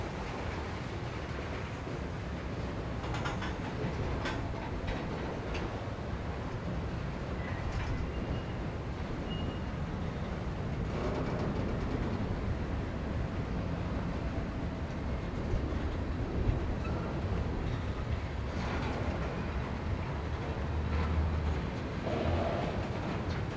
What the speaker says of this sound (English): This is really a long, long train.